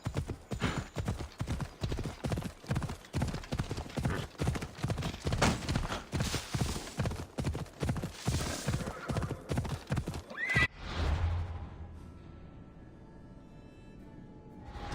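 A horse in Assassin's Creed Odyssey gallops in rapid, rhythmic hoofbeats with whinnies, loud and close for about ten seconds before the pounding cuts off, leaving a quiet low hum.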